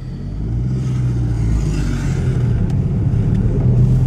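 A VW Polo engine drones steadily while the car pulls away after a gear change, a constant low rumble heard from inside the cabin with a slight rise in pitch.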